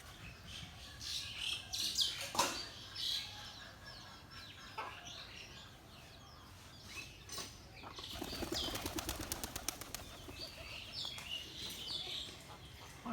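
Bursts of wing flapping as several native pigeons land close by, with scattered chirps and rustling around them, no voices.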